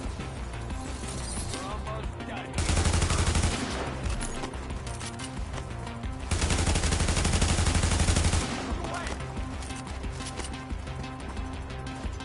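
Gunfire in the video game The Division on PS5: two loud bursts of rapid pistol shots set against a dense background of game noise and mechanical clatter.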